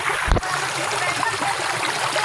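Clean water runs through a modified stream channel during the rainy season, giving a steady bright trickle and splash throughout, with a brief low thump near the start.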